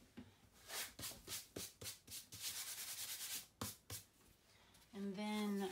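Dried salt crystals being rubbed off a watercolor painting by hand, a series of short scratchy sanding strokes in an uneven rhythm, close and fairly quiet, ending with a brief tonal sound.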